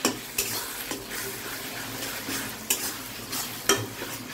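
Ginger, tomato and green chili paste being sautéed and stirred in a pan, a soft steady sizzle broken by a few sharp scrapes of a spatula against the pan at irregular intervals.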